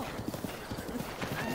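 Horse hooves clip-clop in a steady rhythm in Zelda: Breath of the Wild, fairly quiet under game ambience with no talk.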